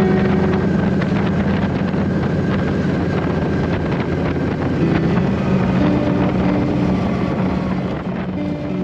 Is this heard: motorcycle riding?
yes